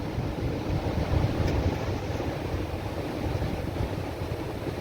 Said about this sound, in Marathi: सुंदर वारा आहे बघा.